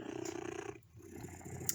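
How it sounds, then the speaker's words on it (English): Close, steady rhythmic purring of a cat, a low rumbling pulse that pauses briefly midway and then resumes. "Do you hear him purring?"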